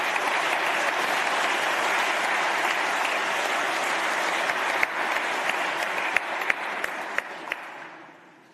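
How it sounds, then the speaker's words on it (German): An audience at a political rally in Hamburg applauds in a neighbouring hall, sustained dense clapping at moderate distance that thins into scattered claps and fades out. "da kann man den Applaus im Nebensaal hören"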